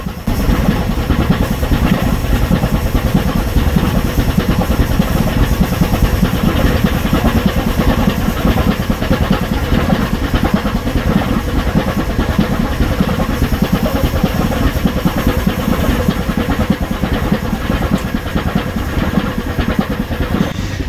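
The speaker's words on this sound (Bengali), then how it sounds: "মাঝে মাঝে সাইলেন্সারের পিছনে সেই ইঞ্জিনের আওয়াজ শুনি" Engine of the Parabat 11 passenger launch heard from behind its silencer, a loud, steady, dense throbbing drone that holds without a break for about twenty seconds, with no talking over it.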